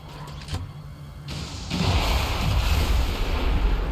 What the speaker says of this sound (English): we got the bonus of a car explosion